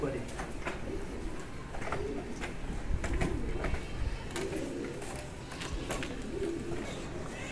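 Pigeons coo repeatedly in soft, rhythmic bursts on a rooftop in India, faint against a steady outdoor background with occasional clicks and flutters.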